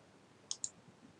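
Two quick, crisp computer mouse clicks spaced about a tenth of a second apart, clicking OK while setting up a project in the Webocton Scriptly code editor, close and isolated against a quiet background.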